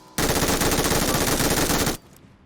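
Sustained automatic weapon fire in the PUBG Mobile shooter game, a loud unbroken burst of rapid shots lasting about two seconds before cutting off abruptly into quiet.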